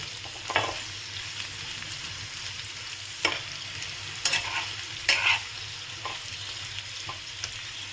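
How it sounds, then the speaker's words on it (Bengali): Potatoes fry in a pan for aloo bhaji, a constant close sizzle with several sharp scraping strokes of a spatula spaced a second or so apart. "আমি আরেকটু ভেজে নেবো আলুটা"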